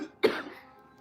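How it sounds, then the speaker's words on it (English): A single sharp cough, close and fairly quiet, followed by a brief fading rasp. "coughing doesn't help."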